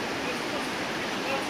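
A river rushes in a steady, dense broadband wash, loud and close, with no break or variation through the short moment.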